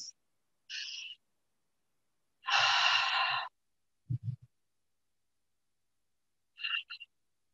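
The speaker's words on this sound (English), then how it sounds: "we're going to end with our 3 clearing breaths" Three slow clearing breaths at the close of a yoga session, soft airy inhales and exhales heard close and alone in quiet, the longest near the middle, with a brief low voiced sigh after it.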